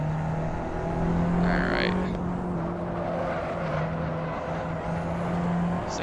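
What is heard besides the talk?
Abarth 500 Esseesse engine revving in Assetto Corsa video game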